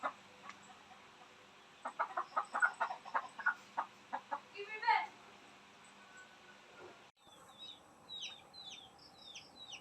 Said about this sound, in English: That chicken doesn't belong to us, but they're always here.